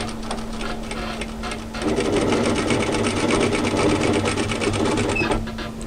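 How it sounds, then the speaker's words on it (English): A sewing machine stitches bias tape onto a kimono kaftan, its motor whirring steadily close by, then running louder and more continuously after a short, lighter stretch at the start. "So just match that edge and continue stitching until you get to just short of your pin"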